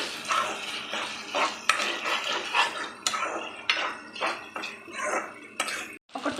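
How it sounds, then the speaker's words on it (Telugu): Bottle gourd pieces fry in ghee in a pan with scraping, clattering and stirring against the metal over a soft background sizzle, close and steady with repeated utensil knocks. "ఇది కూడా ఒకసారి నెయ్యితో ఫ్రై చేయాలండి."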